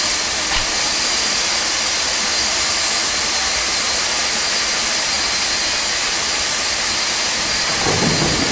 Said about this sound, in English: Starting engine number 2. Starting engine 2. Starter valve open.